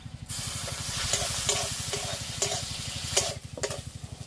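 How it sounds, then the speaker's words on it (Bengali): Prawns fried with onion and garlic in a pan, a close, continuous sizzle with stirring scrapes and occasional louder bursts, over a low steady hum from the stove. "এবার একসাথে ভালো করে ভেজে নেব। চিংড়ি মাছ কাটাগুলো দিয়ে দেবো।"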